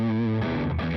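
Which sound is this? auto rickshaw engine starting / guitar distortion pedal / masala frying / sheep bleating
guitar distortion pedal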